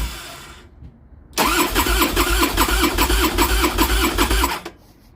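A Harley-Davidson motorcycle engine cranking but failing to start, a loud close starter whir with rhythmic chugging pulses for about three seconds, then stopping abruptly into quiet.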